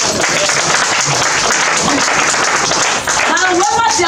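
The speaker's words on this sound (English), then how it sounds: "That's an applause for the Vice President." An audience applauds the Vice President at a presentation to the Group of 77, a loud steady roar of clapping throughout, with voices and faint speech mixed in near the end.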